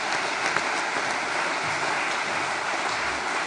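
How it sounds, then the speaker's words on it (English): Conference audience applauding a speaker at a party's inaugural political conference in 2021, a dense, steady wash of many hands clapping throughout, fairly loud and even with no pauses. "Suzanne deserves a real round of applause for her fantastic resolution"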